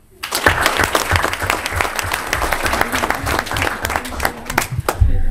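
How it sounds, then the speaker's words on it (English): An audience at a high school student school board meeting applauds, a dense burst of clapping that rises quickly and holds steady for several seconds before tapering. "Wendy Carrick, give her a round of applause."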